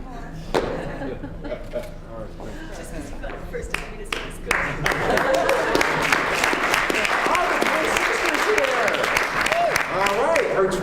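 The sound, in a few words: audience applause at college competition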